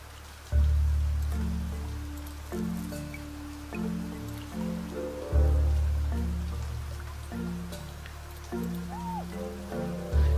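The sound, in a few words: rain in the video game Niche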